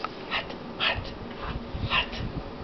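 A dog gives a few short soft woofs and whimpers indoors, spaced out at a low to moderate level over a quiet background, with no one speaking.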